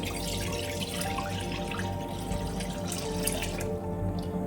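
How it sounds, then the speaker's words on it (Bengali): Water pours steadily into a pot of potatoes while cooking stuffed aloo dum, a continuous close splashing stream with light dripping, and no voices over it. "এবারে দিয়ে দিলাম জল"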